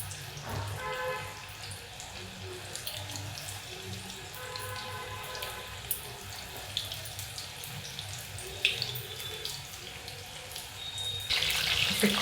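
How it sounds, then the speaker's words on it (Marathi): Soya chunks deep-fry in oil over a low flame with a steady, soft hiss of bubbling that keeps on with small crackles and a louder surge at the end. "बारीक गॅसवरच तळून घ्यायचे"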